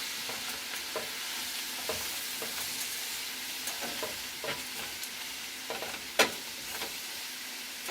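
Steady frying sizzle of cabbage in a pan, with intermittent clicks and scrapes of stirring, one sharper clack near the end.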